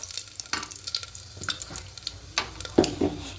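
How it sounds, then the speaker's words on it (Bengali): Whole cloves, a cinnamon stick, cumin seeds and two bay leaves fry in a little oil while a utensil scrapes and stirs them, producing soft sizzling with sporadic sharp clinks and scrapes close by. "আর দেবো এখানে জিরে, গোটা জিরে আর 2টো তেজপাতা দেবো। একটু হালকা নাড়াচাড়া করে নেব।"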